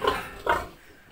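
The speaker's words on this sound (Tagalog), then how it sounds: "tingnan natin ang mga biik sa kanilang bagong kulungan." Piglets in a newly built pen, two short close grunting squeals in quick succession, then quiet.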